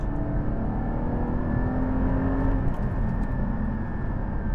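A Porsche 718 Cayman GT4 engine hums steadily under acceleration, a moderately loud continuous drone with a rising whine heard from the cabin, no voices.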